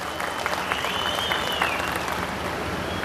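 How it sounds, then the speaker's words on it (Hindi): A large political rally crowd claps steadily and densely, producing a continuous roar of applause with no pauses. "जो मैं तालियों की गड़गड़ाहट की आवाज सुन रहा हूं"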